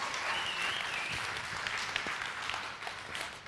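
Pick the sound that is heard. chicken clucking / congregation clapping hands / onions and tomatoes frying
congregation clapping hands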